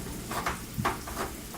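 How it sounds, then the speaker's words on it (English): Onions and garlic saute in a single pot for a chicken and pasta dish, a steady close sizzle broken by a few soft stirring scrapes. "Let those onions and garlic saute."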